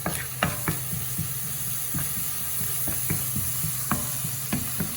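Mixed vegetables sauté in a pan with oil until golden, a steady low sizzle and hiss under sharp, irregular clicks and scrapes of a spoon stirring against the pan. No voices.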